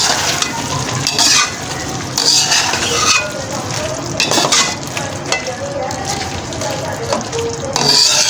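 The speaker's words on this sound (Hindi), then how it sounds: "इसके साथ हम बाकी सब्जियां ऐड करते हैं, जिनमें हमारे पास 1 शिमला मिर्च और ये बंद गोभी है, ये हमने डाल दी। और इसको अच्छे से मिक्स करते हैं।" Capsicum and cabbage being mixed into rice in a hot pan, giving loud, close sizzling with repeated rhythmic scraping and clinking of a spoon against the pan.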